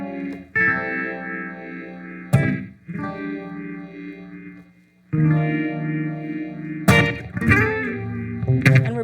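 An electric guitar plays a bluesy motif through chorus and echo effects, with sustained ringing chords, short pauses and sharp attacks, loud and alone.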